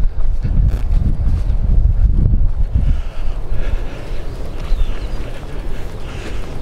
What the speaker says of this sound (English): The wind's not cold, it's just windy.